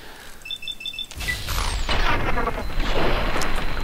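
An enemy blows up in Fallout 3 at an Air Force base: after a few quiet electronic beeps, a loud booming blast erupts and rolls on into sustained rumbling, crackling debris and mechanical clatter.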